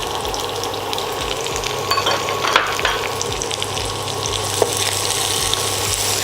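Sliced onion frying in a pan with salt for vegetable macaroni, giving a steady close hiss of sizzling oil with a few soft scrapes and taps of a spoon, no voices.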